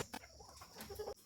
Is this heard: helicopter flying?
no